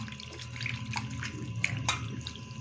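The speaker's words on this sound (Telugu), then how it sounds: "కొంచెం పసుపు వేసుకొని ఇది కడిగేసుకున్నాను అన్నమాట. పసుపు నీళ్ళలో" Chicken liver being rinsed in turmeric water in a kitchen, with soft sloshing and trickling water and a few small splashes and clinks, quiet and close, with no voices.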